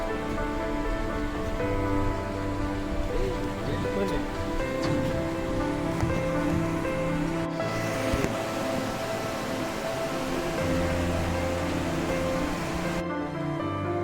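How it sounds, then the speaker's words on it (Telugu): Water rushes steadily beneath a rope bridge in the Maredumilli forest, a constant broad wash of flow with tonal, music-like sounds layered over it. "ఈ బ్రిడ్జ్ కింద నుంచి వాటర్ పోతా ఉన్నాయి."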